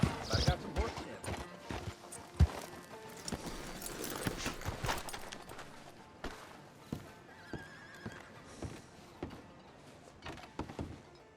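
Horse hooves clip-clop in Red Dead Redemption 2, a steady run of hoof strikes through the first half before thinning out, heard alongside game character dialogue and ambient noise.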